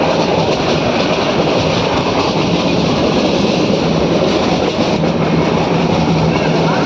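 A Gir train between Gir Gadhada and Sasan Gir rumbles steadily along the rails, a loud continuous roar heard from on board with no clear pauses.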